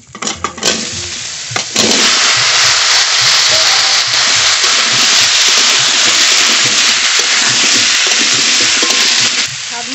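Loud, steady sizzling of cut pumpkin and potato dropped into hot oil seasoned with panch phoron, dried red chilli and bay leaf. A few clanks come first, then continuous frying hiss.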